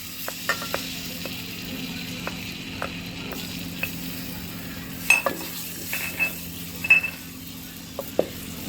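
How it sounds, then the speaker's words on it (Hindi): Garlic and ginger paste frying in hot oil in a pan, a quiet steady sizzle under a low hum, punctuated by occasional close scrapes and clinks of a stirring spoon. "तो देखिए लहसुन अदरक हमारा अच्छे से फ्राई हो गया है।"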